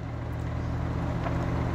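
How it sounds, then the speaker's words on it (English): A BMW i8 engine note, partly piped through speakers, holds as a steady low droning hum with even harmonic bands, close and continuous for the whole stretch without speech. "It's got a supercar sound."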